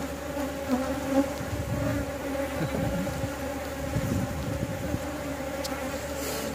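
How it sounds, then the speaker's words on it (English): Bees emerging at a backyard hive fill the air with a steady, close buzzing drone that holds level throughout, with no voices over it. "Some bees coming out right here. Brand new bees."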